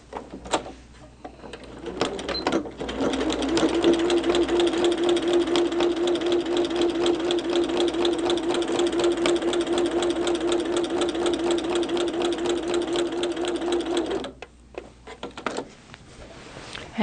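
A sewing machine stitches a Christmas tree quilt with a steady, continuous mechanical whir lasting about ten seconds, starting and stopping with short pauses and quiet handling at either end.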